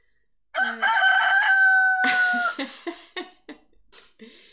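A rooster gives one loud, close cock-a-doodle-doo crow, followed by a few shorter clucking and gurgling notes trailing off into quiet, with no talk over it.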